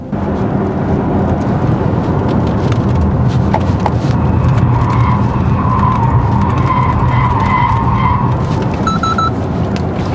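An Audi e-tron S electric SUV corners uphill in dynamic mode, with steady loud road and tire roar throughout and a faint tire squeal rising through the middle; no talk is heard.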